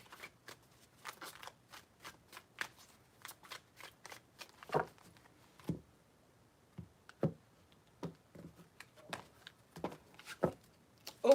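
Tarot cards being shuffled by hand, a string of crisp riffling flicks and soft card snaps in uneven bursts, close and fairly quiet with no voices.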